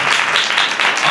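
Church congregation clapping hands together, a dense steady wash of many claps filling the space without a break.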